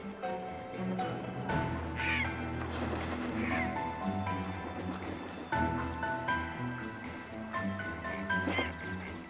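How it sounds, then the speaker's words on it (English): Herons squabbling over the last fish in a winter setting give harsh, croaking calls in short outbursts, heard over a steady bed of background music. "A fight has flared up over the last fish among the herons."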